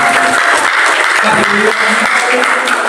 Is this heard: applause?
yes